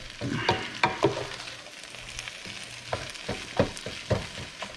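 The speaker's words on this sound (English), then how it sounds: "so we're gonna put the eggs in. Mix it up" Eggs frying and being stirred into fried rice with Chinese sausage and bacon, a close sizzle broken by a rhythmic series of spatula scrapes and knocks against the pan.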